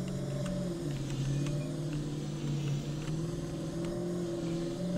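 A truck engine hums at a steady low idle while parking a trailer in the Yukon River Valley, a close continuous drone with small fluctuations and no talking.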